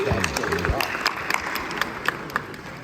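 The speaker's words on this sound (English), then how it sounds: "that deserves a round of applause" An audience applauding together at a talk, a dense steady patter of clapping with a voice briefly over its start.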